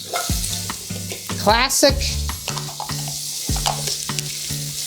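Chopped carrot and celery sauté in a pot for chowder, with steady close sizzling broken up by repeated stirring scrapes and a brief word spoken over it.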